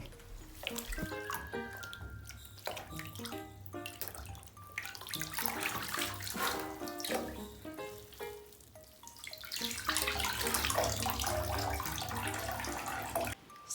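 Water runs and splashes in a bathtub as a knitted piece is rinsed, a steady close sloshing and pouring with brief drips and pauses.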